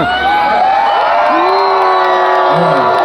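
A large concert crowd at Svitiaz music festival shouts and cheers loudly and continuously, with individual voices whooping and yelling over the roar.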